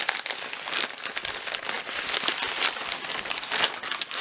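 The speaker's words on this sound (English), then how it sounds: "Let's tear this open." Parcel holding a Hornby HEA hopper wagon being torn open by hand, a dense, continuous crinkly ripping and crackling of packaging, close and fairly loud throughout with no talk.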